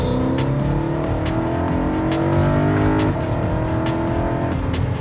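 A car driving on the Nürburgring track, its engine revving up through rising gear pitches with shifts and steady road and wind roar close to the microphone, with no voices.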